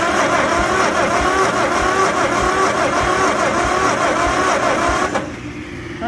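A John Deere 40 tractor engine, revived after sitting for years, runs loud and close with a rough, continuous mechanical clatter before the sound drops away sharply near the end.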